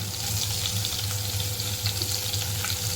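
Asafoetida and cut green chillies sizzle in hot ghee as the base for a spicy soybean curry, a close, continuous frying hiss with no voices.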